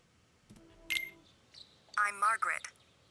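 A phone rings in Persona 4 Golden: a short run of electronic tones, then a brighter burst of warbling, chirping ringtone notes, clear and up front with brief gaps between phrases.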